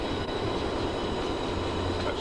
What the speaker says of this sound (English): That's slack run again.